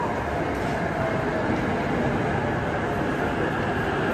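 Azusa limited express train, a steady loud rail rumble and wheel roar heard from on board or close alongside, continuous throughout with no voices.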